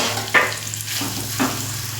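Chhana cooking in a little ghee in a kadai over a gas flame gives a steady close frying sizzle, with a couple of brief stirring scrapes and no voices.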